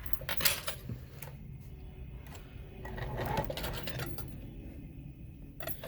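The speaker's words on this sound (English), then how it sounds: "So we're going to now sew these, again, our 1/4 inch seam allowance." A sewing machine stitches a quarter-inch seam on a quilt block, running in short bursts with pauses, alongside small clicks and handling noises close by.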